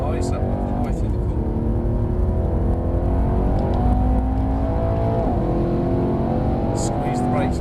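A Mercedes-AMG car powers out of a corner on a track, engine note rising in pitch as it accelerates hard, loud and close from inside the cabin, with an instructor talking over it.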